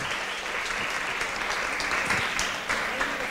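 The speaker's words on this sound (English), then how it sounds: "Can we have a round of applause?" An audience at a SheSays Singapore evening event gives a round of applause, a steady wash of many hands clapping at moderate distance with faint crowd murmur underneath.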